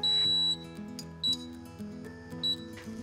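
A cooker timer on an ASKO oven being set while crème caramel is made in a kitchen gives three short, sharp electronic beeps spaced about a second apart, ringing clearly over a steady background of music.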